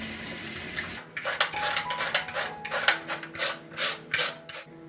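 Tap water running into a sink while a peeled radish is rubbed and rinsed under it, a steady splashing flow broken by repeated scrubbing swishes, close with no voices.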